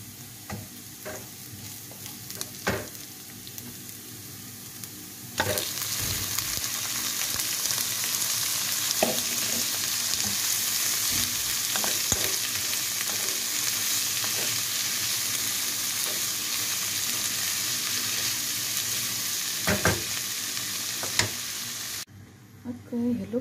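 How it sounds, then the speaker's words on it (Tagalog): Garlic, onion and a little ginger sizzle steadily in a hot pan for squash cooked in coconut milk, with a constant frying hiss and occasional clicks and stirring scrapes close by. "nakapaggisa na ako ng bawang, sibuyas at konting luya"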